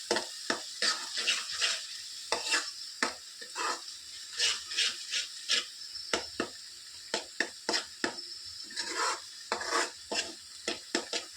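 Tomatoes and fresh coconut fry in oil in a pan for tomato charu, with a soft sizzle under repeated scraping and clinking strokes of a spoon stirring against the metal, close and fairly loud.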